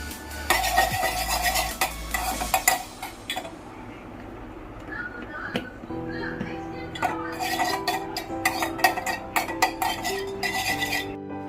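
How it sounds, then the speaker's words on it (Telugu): Dry fruits roasting in ghee in a small pot, with a spoon scraping and clinking against the metal in quick repeated strokes over a soft sizzle, close by, with no voices. "నెయ్యిలో డ్రై ఫ్రూట్స్ని ఇలా రోస్ట్ చేసుకోవాలి"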